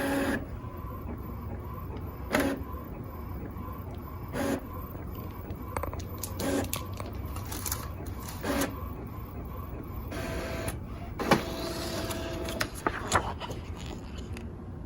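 An inkjet printer prints a screenprinting film, giving a steady mechanical whir broken by sharp, regular carriage clunks every couple of seconds, moderately loud and close, with no talking.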